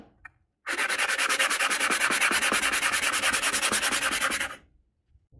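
Mountain bike brake parts being sanded smooth by hand: close, loud rhythmic rasping strokes in a fast steady back-and-forth for about four seconds, then quiet.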